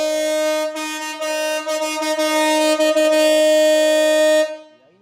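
Marine air horn fitted to a Volkswagen Fusca (Beetle) sounds one long, loud, steady blast lasting several seconds, bright and brassy with strong tonal harmonics, then cuts off abruptly.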